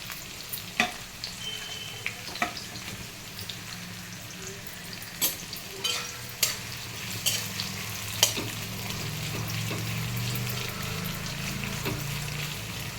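Onions frying with mustard seeds in a pan for tomato onion curry, a continuous close crackling sizzle with scattered sharp pops and clinks early on, then a steadier, fuller frying hiss toward the end.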